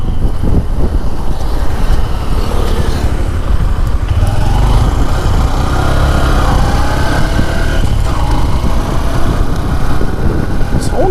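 A Honda SP 125 motorcycle engine runs continuously while the bike is ridden, a loud and steady drone with rushing wind noise. Its pitch shifts a little midway, with no talking heard.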